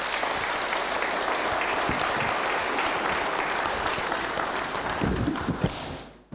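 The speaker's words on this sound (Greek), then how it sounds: "Εδώ χειροκροτάνε και τελειώσαμε." Audience applause at the end of a talk, loud and sustained clapping from a crowd that thins out and stops near the end.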